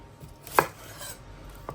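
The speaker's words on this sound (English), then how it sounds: "Everybody's got their own way of chopping onions." A single sharp knife chop through an onion on a cutting board, close and fairly quiet, followed by a faint second tap.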